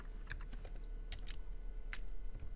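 Quiet, close clicks of typing on a computer keyboard come in short irregular bursts over a faint low hum.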